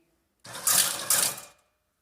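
A Tolchin/Shipov drive with a brake circuit spins up briefly, a bright mechanical whirring burst of about a second with two surges, then stops to silence.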